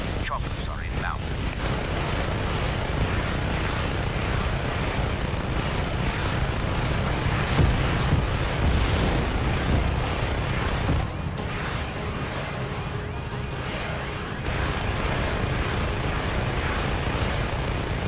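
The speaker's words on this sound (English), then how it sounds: "Choppers are inbound. Repeat, choppers are inbound." Attack helicopters approach in the video game Just Cause 3, a loud, continuous rotor and engine roar that rises slightly midway, with speech underneath.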